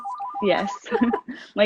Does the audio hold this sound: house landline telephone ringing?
yes